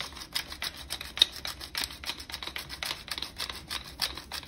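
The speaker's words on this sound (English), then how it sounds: "add a little extra fresh cracked pepper flavor to the top of this" A pepper mill grinds fresh cracked pepper from above onto an unbaked chicken pot pie, giving a close, steady run of dry crunching scrapes with no talk.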